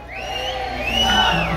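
A festive crowd in Magdalena Cuayucatepec yells "beso" in unison, a loud, rising chorus of many voices that holds for about a second and a half.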